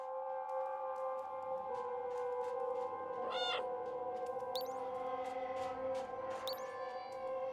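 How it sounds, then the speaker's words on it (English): A cat meows in a few rising, wavering calls amid steady tonal ambient game music and sound effects, moderately quiet with no talking. "Wow, I hear a real life cat too."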